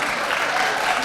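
An audience at a mayoral candidate debate claps in a brief, steady burst of dense applause that fills the room at close range.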